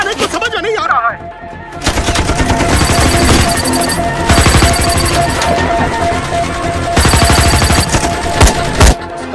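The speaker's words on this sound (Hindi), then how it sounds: "हम तो फायरिंग कर रहे हैं सर।" Dense bursts of automatic gunfire and shots fill an action movie battle scene, loud and sustained with rapid staccato volleys and short pauses, after a brief opening of voices and music.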